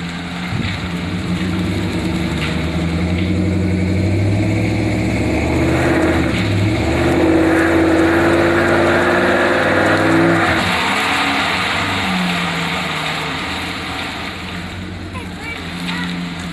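A 2007 Chevrolet Silverado pickup's engine revs and roars steadily for a long stretch, loud and close with rising and falling pitch, while people talk over the noise.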